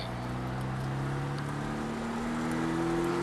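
A Porsche Cayman S engine climbing steadily in pitch as it accelerates hard on the Circuit de Mireval race track, a continuous close-up roar with a rising whine.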